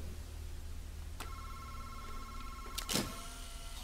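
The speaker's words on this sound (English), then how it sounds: "But I hear the phone." Phone ringing in the horror video game MADiSON, heard as faint tonal buzzes with one sharp onset early and a louder burst near the end, over a low steady background hum; no talking.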